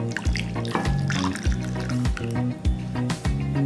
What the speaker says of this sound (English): Next I'm going to take the melted butter and I'm going to add milk to it.